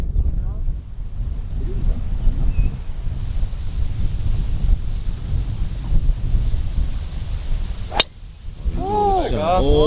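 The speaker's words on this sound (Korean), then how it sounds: "슬라이스 바람이 심해요." Strong wind gusting across an outdoor golf course, with constant low rushing buffeting the microphone, a sharp click near the end, and a voice speaking briefly afterward.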